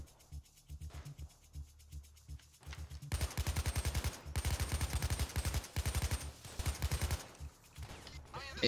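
Rapid automatic AK-47 fire in Payday 2, with fast rhythmic bursts of close, loud shots after a quieter opening, broken by short pauses between strings of rounds.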